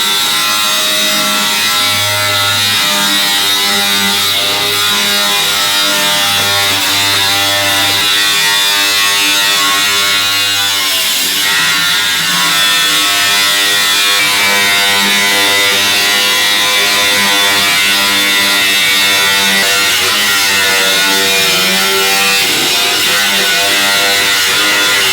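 A power tool cuts steadily through a metal cowl hood panel for a Duramax truck, a loud continuous high-pitched grinding whine with slight shifts in pitch as it works along the panel, with no talking.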